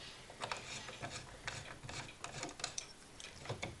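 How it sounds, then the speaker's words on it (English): A small screw turned out of a Singer 6268 sewing machine with a flat-bladed screwdriver, faint close scratchy rasping and clicky turns in quick irregular strokes, quiet with no voices. "Unscrew this little screw out."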